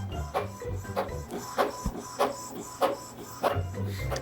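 An inkjet printer printing onto a shrink plastic sheet, a rhythmic series of whirring carriage passes about every half second, close and fairly loud with a low mechanical hum underneath.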